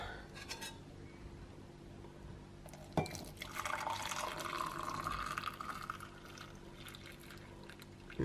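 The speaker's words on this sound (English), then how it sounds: "And now I'll pour it out into a mug." Hot chocolate made with heated milk is poured from a pan into a mug in a home kitchen: a sharp clink as the mug is set down, then a steady liquid stream and splashing filling it, close and alone.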